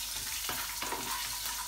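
Cashew nuts frying in a pan for Ven Pongal, a soft continuous sizzle with a few light scraping stirs, fairly quiet and close.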